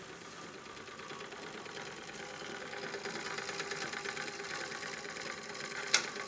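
A Mehak manual interlock sewing machine runs steadily nearby, a quiet, even mechanical whirring that hardly changes, with one brief click near the end.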